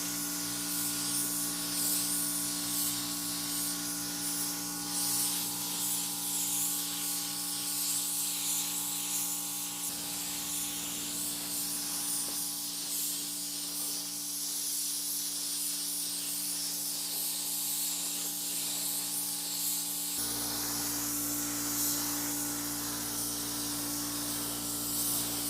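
Steady, continuous spray hiss as one light coat of paint goes over a WRX headlight housing, with a low constant hum underneath. No one speaks.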